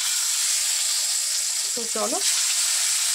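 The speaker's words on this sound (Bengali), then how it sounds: "তেল আবার ওই তেলেই আমি পটলটা ভেজে নেব" Pointed gourd fries in hot oil left from frying potatoes, giving a loud, continuous close-up sizzle and hiss, with a brief spoken phrase over it.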